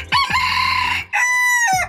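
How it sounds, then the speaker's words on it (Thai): A bantam rooster crows loudly twice, close by, each call a shrill, drawn-out cock-a-doodle-doo with a brief pause between them. "อันนี้คือเสียงไก่แจ้นะครับ"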